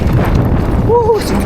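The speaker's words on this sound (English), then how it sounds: "Woo, it's windy." Strong wind buffeting a chest- or chin-mounted action camera microphone outdoors, a loud continuous low rumble with gusty fluctuations, briefly joined by a short voiced exclamation.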